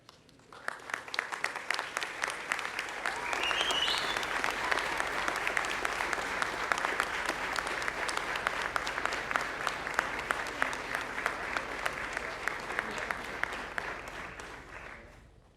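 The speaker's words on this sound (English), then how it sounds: "offer them a round of applause in appreciation of their support" Graduates at the 2016 Marine Institute graduation ceremony stand and applaud their families and supporters. The dense crowd clapping starts with scattered claps, swells quickly, holds steady for over ten seconds, then fades out.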